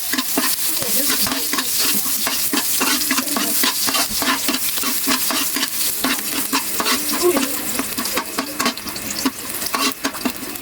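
Garlic fries in a pan with a steady, loud, close sizzle and crackle, while quick, rhythmic stirring strokes scrape through the oil.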